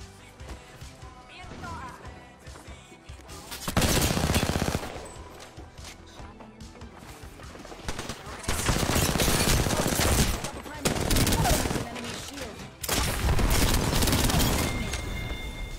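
Gunfire in the mobile shooter Call of Duty Mobile: loud rapid automatic bursts arrive in several sustained stretches, separated by quieter gaps where people talk over background music.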